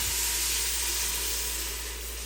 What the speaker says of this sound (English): Be careful when it hits the hot pan, it will steam up on you.